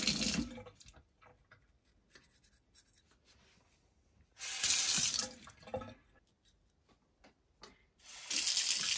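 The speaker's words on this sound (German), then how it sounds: "Und das macht ihr halt mit Wasser." Water runs from a tap in bursts while braces are cleaned, splashing loudly into a sink between quieter stretches of scrubbing and handling.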